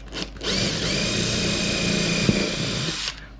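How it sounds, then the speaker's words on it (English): A power drill with a 3/32 bit drilling a hole during a model railroad switch machine install, a steady close high whine for about three seconds with a brief click partway through, no talk. "I'm going to take a drill and I'm going to use a 3/32 drill bit."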